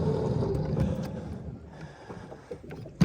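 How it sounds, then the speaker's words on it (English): A noisy, worn-out old outboard motor drones on a small boat towing an automatic feeder across a fish farm pond, a low steady rumble with water splashing and a few sharp knocks near the end. "This noisy old motor, it's a bit knackered"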